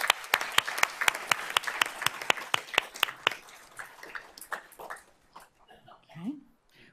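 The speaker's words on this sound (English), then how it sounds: "Let's give Isabella a round of applause" Applause at a school board meeting for a student golfer: sharp, rhythmic hand claps ring out close and clear, then thin out and fade, with people talking faintly afterward.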